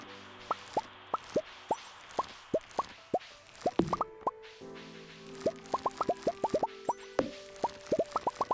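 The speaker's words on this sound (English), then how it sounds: "I love all these berries that just sort of pop off like this" Berries pop off plants during harvesting in Stardew Valley: a rapid run of bright, short plops in quick bursts and clusters, crisp and close, with no talking.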